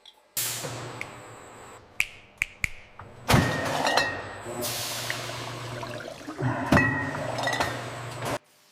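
Empty green glass bottles clink sharply on a high-speed conveyor line at a perfume factory, with scattered bright knocks and clatters over a steady machinery hum, no voices.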